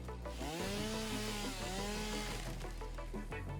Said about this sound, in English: let's test out our chainsaw